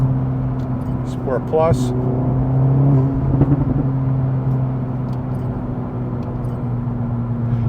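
An Acura Integra Type S fitted with an MBRP exhaust cruising, a steady low engine drone and road hum under people talking in the cabin.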